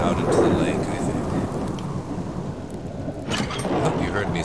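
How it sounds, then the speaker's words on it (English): Thunderstorm in the survival game Subsistence at a lake: heavy rain hisses steadily with deep rolling thunder rumbling underneath, loud and continuous, swelling again near the end. "I couldn't hear myself talking through that storm"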